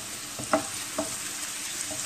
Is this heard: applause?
no